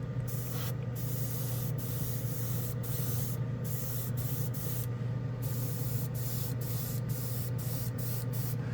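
Airbrush spraying chrome paint: a steady, continuous hiss with brief pauses as the trigger is released and pressed again, close and fairly loud.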